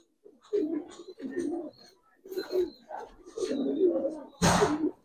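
Giribaz silver coloring pigeons coo in a series of soft, low, rolling bursts at close range, with a louder, brighter flutter-like burst near the end.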